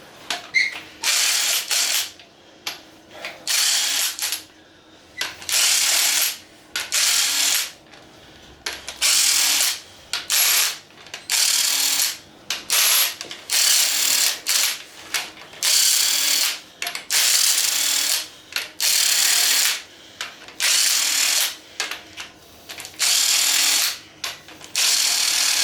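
A ratchet wrench zips in quick repeated bursts while removing the rod caps from a 4.7 stroker engine, each loud clicking run followed by a short pause, with no talking over it.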